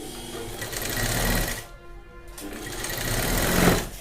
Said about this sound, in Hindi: अब इसके ऊपर से हम सिलाई लगाएंगे।